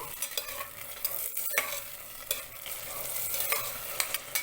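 Fresh green peas sauté in oil or ghee inside a pressure cooker pot, giving a steady close sizzle broken by irregular scraping and stirring clicks, with no talking.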